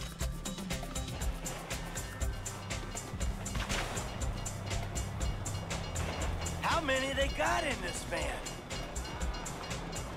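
A train rumbles past inside Grand Theft Auto V, its steady rolling roar filling the scene while someone talks excitedly over it.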